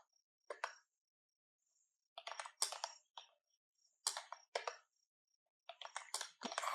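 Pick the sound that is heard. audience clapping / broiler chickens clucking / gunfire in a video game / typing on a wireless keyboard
typing on a wireless keyboard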